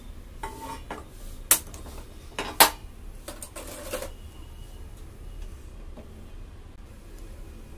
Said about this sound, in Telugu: ఇప్పుడు స్టవ్ ఆన్ చేసుకుని ప్యాన్ పెట్టుకుని స్టవ్ ఆన్ చేసుకోవాలి.